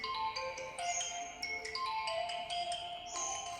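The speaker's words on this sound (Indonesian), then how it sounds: "Sorry, ada telepon," A mobile phone ringtone plays during a lesson: a bright, looping electronic melody of quick stepping tones that runs steadily and alone throughout.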